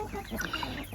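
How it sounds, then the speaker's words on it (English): Chickens and roosters in a farm pen, with young birds hatched from hens, clucking and calling in short bursts close by over steady background noise. "you can see two roosters, that light one, that one there, and all the rest are ones that have hatched from our mama hens"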